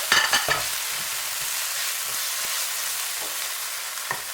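Carrots and habanero pepper are stirred in a frying pan, with a steady broad sizzle throughout and a few scraping utensil knocks near the start and end.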